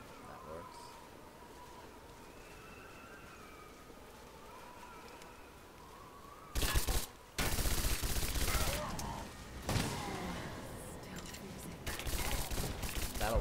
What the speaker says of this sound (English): I see somebody shooting from up there